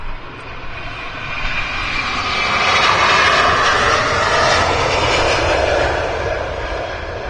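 Airplane engines roar loud and steady at Amsterdam Schiphol Airport, a broad sustained rumble that swells in the middle and holds without a break, with no voices over it.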